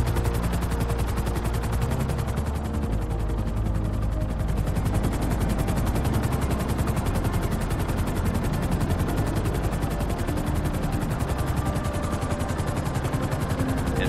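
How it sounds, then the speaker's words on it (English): Helicopter flying in the video game GTA 5, heard as a dense, loud rotor chop with rapid rhythmic pulses over a constant engine roar, sustained and close for the whole stretch, no talk. "so I'm going to hop to Trevor and use his helicopter"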